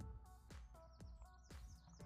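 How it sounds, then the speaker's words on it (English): Faint birdsong on a flower farm, a few scattered chirps and short tweets repeating at a quick, irregular rhythm over quiet outdoor background. "Hear the birds singing."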